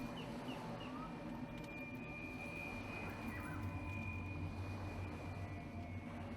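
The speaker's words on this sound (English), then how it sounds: "you hear the prop plane has kicked on" A propeller plane engine starts up and runs with a steady droning hum and a sustained whine on top, holding at an even, moderate level throughout near a forest shore.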